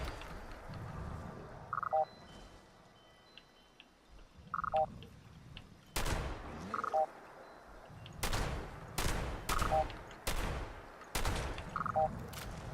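Gunfire aimed at the player in the Fallout 76 video game: several sharp, loud shots and bursts crack out at irregular intervals amid low rumble, with faint repeating electronic beeps between them.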